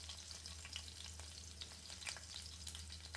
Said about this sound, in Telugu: ఆయిల్ హీట్ అయ్యాక సన్నగా తరిగి పెట్టుకున్న పచ్చిమిరపకాయలను వేయాలి.